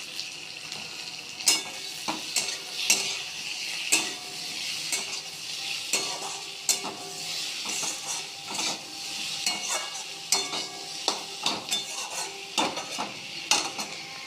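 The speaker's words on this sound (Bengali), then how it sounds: "পেঁয়াজগুলো লাল করে ভাজা হয়ে গেছে" Onions and tomatoes sizzle steadily in a hot pan while a spoon repeatedly scrapes and stirs, producing irregular clinks and scraping knocks.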